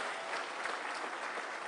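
Audience applause for the President of Kenya at a call centre launch event, a steady dense wash of clapping throughout, fairly even in loudness with no voices standing out.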